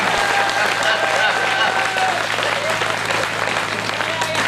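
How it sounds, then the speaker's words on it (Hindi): A crowd at a large Hindi poetry gathering (kavi sammelan) claps steadily in honour of elders, loud and sustained throughout, with a voice faintly carrying over the dense applause. "तालियां बजाइए बुजुर्गों के सम्मान में।"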